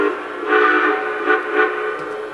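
A loud, breathy steam whistle from a Lionel Union Pacific 4-8-8-4 Big Boy model train sounds in one sustained blast that swells twice, with a low mechanical hum beneath it from a vibrating screw auger.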